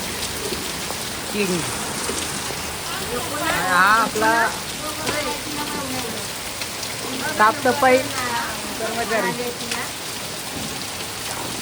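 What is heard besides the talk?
monsoon rain falling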